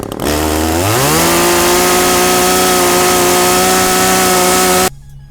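A gas-powered chainsaw with a fresh, sharp chain revs up from a low idle to a loud, steady high whine, then cuts off abruptly, heard very close with no talking.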